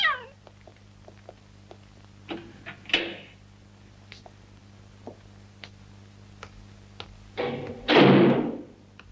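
A cat meows several times in a quiet indoor scene from a 1979 Italian crime drama, with soft thumps in between and a louder, drawn-out meow near the end over a low steady hum.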